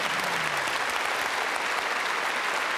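Studio audience applauding after a Mercedes Brabus SL lap on a test track, dense, even clapping that stays at a constant level throughout.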